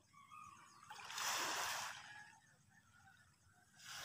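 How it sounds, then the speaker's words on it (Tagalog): Gentle waves wash onto Alpapara Beach in a soft, faint splash that swells briefly and fades, with another small wave rolling in at the end. "Kita po ba ninyo yung mahampas ng alon na yan?"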